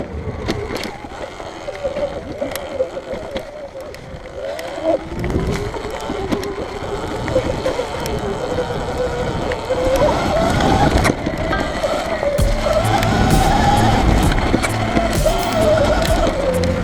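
Sur Ron XX electric dirt bike peeling out, its motor whine rising in pitch as it accelerates, with tire scrabble and wind noise building louder toward the end.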